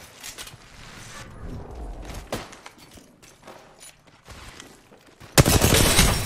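Gunfire in a battle royale shooter match against the Predator lobby: scattered sharp shots and cracks amid footsteps and mechanical clatter, ending in a loud, dense burst of rapid fire.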